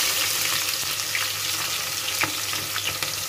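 Onion and ginger fry in a pan with a steady, dense sizzle, heard close. A few light stirring scrapes cut through it, and no one speaks.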